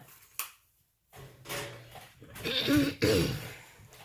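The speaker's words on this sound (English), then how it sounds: "I'm sorry for clearing my throat on camera, you guys." A person clears their throat with a couple of rough, raspy bursts close to the mic, separated by brief pauses.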